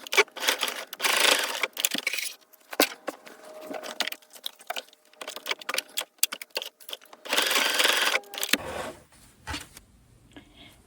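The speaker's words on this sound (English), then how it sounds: "The instructions say to tack the lower end of that seam I just sewed in place" A sewing machine tacks the end of a seam on kids' shorts, with bursts of rapid needle clatter and pauses between, close up, then a softer handling noise at the end.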